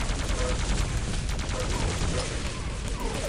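Continuous rapid gunfire from a first-person shooter video game fills the clip, a dense, loud, unbroken stream of shots with a booming low end and no gaps.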